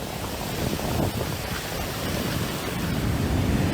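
Ocean waves crash on a shore in a steady, loud, close roar of broadband surf that never lets up, with no voices.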